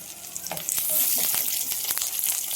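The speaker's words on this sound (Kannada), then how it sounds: "ಕರಿಬೇವು ಜೊತೆಗೆ ಇಷ್ಟು ಹಾಕೊಂಡು ಚೆನ್ನಾಗಿ ಫ್ರೈ ಮಾಡ್ಕೊಳ್ಳೋಣ" Onion, green and dried chillies and curry leaves fry in coconut oil, a close, loud crackling sizzle broken by irregular scrapes and taps of a stirring spoon.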